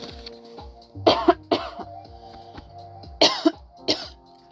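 A person coughs in a series of harsh bursts, close and loud: a pair, a single cough, then another pair, separated by quiet breathing-like pauses.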